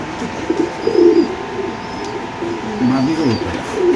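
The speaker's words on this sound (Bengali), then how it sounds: "এখানে আছে এক পিস কবুতর ভাই সিঙ্গেল" Pigeons coo in low, throaty warbles, two clear bursts close by, while someone talks over them.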